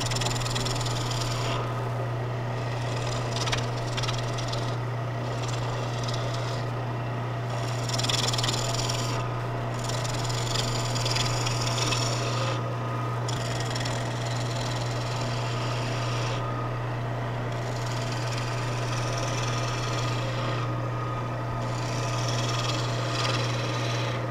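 Continuous rasping scrape of a large gouge cutting a wooden baluster on a spinning lathe under a steady motor hum, unbroken and fairly loud throughout.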